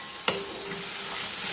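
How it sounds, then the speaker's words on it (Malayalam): A spoon lands a single sharp knock at the start, then stirs chilli powder and garam masala into a Kerala chicken curry in the pot, over a steady bed of close sizzling with no talk. "1/2 ടേബിൾ സ്പൂൺ ഗരം മസാല പൊടിയും കൂടി ഇട്ട് ഇളക്കി കൊടുക്കാം"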